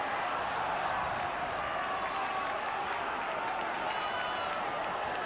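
A football crowd at Burnley v Rotherham United, an FA Cup first round replay, makes a steady, dense roar of cheering and applause that holds at an even level throughout.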